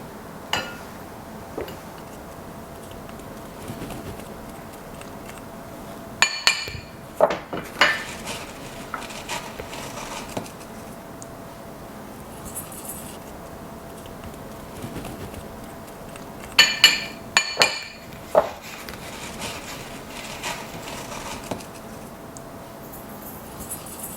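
Chicken pieces being mixed with salt and spices in a dish for grilled chicken and pineapple skewers: soft scraping and stirring with a few clusters of utensil clinks against the dish around the middle and latter part, no talk.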